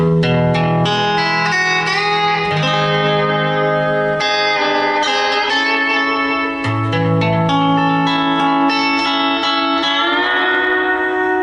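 A sustained, twangy lap steel guitar glides smoothly from pitch to pitch, notes blending with a slight echo, playing continuously without any talking.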